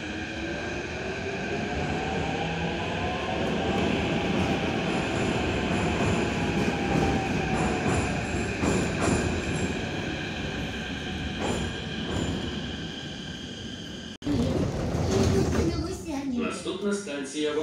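A Kyiv metro train runs between stations, a loud steady roar of wheels and motors with wheel squeal, a brief door-closing announcement, and then louder rattling and clatter near the end.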